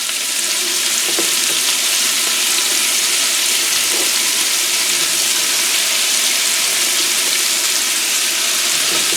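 Beef sears in a hot pot with a loud, constant close-up sizzle and spitting fat, a few faint clinks rising briefly above the steady frying hiss.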